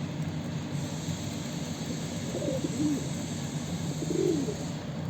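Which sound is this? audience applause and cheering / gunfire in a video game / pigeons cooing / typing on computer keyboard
pigeons cooing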